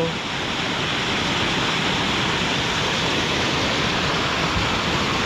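Strong river current rushing during the monsoon in Konkan, a loud, dense and unbroken roar of flowing water that holds steady throughout.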